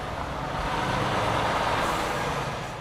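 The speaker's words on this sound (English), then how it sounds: "there can be truck after truck after truck coming through." Heavy trucks rumble past on Main Street in historic downtown Lancaster, Ohio, with a loud, steady, broadband roar of engine and tyre noise close by and no break in the sound.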